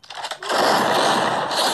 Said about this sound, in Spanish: Un balazo, amigo.